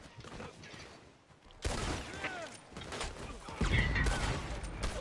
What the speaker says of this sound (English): they're using dual pistols